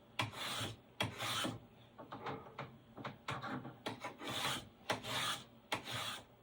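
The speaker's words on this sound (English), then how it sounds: "this has turned out to be my most favorite way for planing the strakes for the model" Hand plane shaving thin wooden strakes for a model ship clamped in a bench vice, a series of close, rasping strokes in an uneven rhythm, some long and some short, with no talk.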